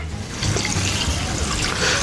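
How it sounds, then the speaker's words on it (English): Two cups of water are poured into a pot with beef, ginger, garlic and salt for Swahili pilau, a continuous close splashing pour lasting a couple of seconds with no talk. "I will add 2 cups of water."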